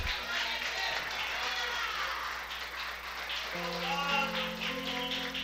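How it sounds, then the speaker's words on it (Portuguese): A church congregation applauds during a worship service: dense, steady clapping fills the room throughout, and sustained musical tones join in partway through. "Dê para Jesus uma salva de palmas"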